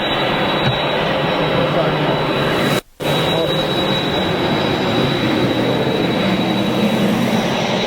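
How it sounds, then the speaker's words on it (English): Aircraft approaching Manchester Airport, a broad steady jet roar that stays loud and constant for several seconds and cuts out for a brief instant partway through. "I've got an approaching aircraft."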